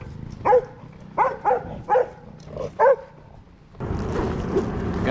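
A dog barks about five times in short bursts near a trail on a bikepacking trip toward Elk Island National Park, followed by steady broadband noise.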